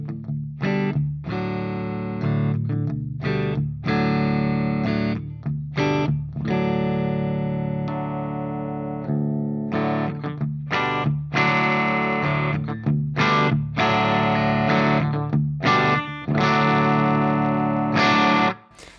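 An Ibanez AS7328 baritone guitar plays clean tones, with strummed and picked chords that ring out and sustain, loud and close, with brief pauses between phrases.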